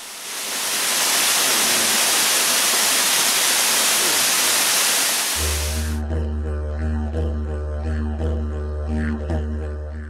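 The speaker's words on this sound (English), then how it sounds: "In the temperate rainforests of the Otway National Park can be found many waterfalls. Beauchamp Falls rise to 25 metres" Beauchamp Falls, a 25-metre waterfall in the temperate rainforest of Otway National Park, roars as a steady broadband rush for about six seconds, then cuts to a different scene with tonal music-like sound.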